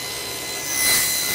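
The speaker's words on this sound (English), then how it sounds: "the grooves and tenons on these tiny pieces are all formed with the table saw" A table saw cuts grooves and tenons into tiny pieces of wood, a steady loud whine of blade noise that swells near the end and then stops abruptly.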